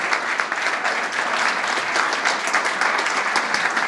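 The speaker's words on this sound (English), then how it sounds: "Let's give them all a round of applause." An audience at a high school winter concert applauds the Palos Verdes High School Brass Ensemble, a loud, dense, sustained clapping that fills the room without pause.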